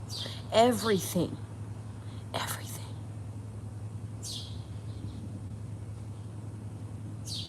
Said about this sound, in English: Have you been hearing this bird chirp afterwards?